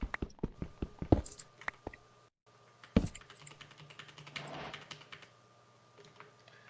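Loud computer keyboard typing during a Minecraft session, quick clusters of sharp clacks with short pauses, close to the mic and alone without talk.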